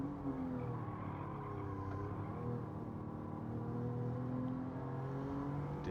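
A Toyota Alphard Executive minivan driven around the Autopolis circuit in Gran Turismo 7, its engine droning steadily with shifting whine tones, moderately loud and continuous.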